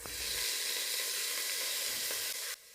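Cherry tomatoes, pak choy and spring onions sizzle loudly in a stir fry, a dense steady hiss that holds for a couple of seconds before cutting off abruptly.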